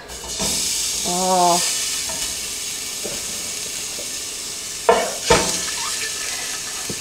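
Beef short ribs sear in a hot oiled skillet over medium-high heat, giving a steady close sizzling hiss broken by a few clunks of meat and pan, with a brief exclamation from a voice.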